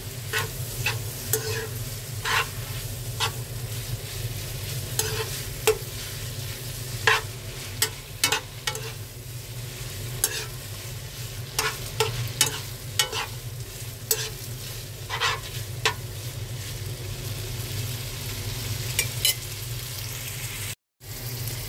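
Garlic, onion and shrimp fry in olive oil in a pan, giving a steady close sizzle with repeated sharp scrapes and clicks of stirring throughout and no talking.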